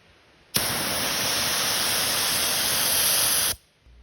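A pepper spray canister, the non-max version rated at 30 feet, fires one continuous three-second blast: a loud, steady hiss that starts abruptly and cuts off sharply, with quiet before and after.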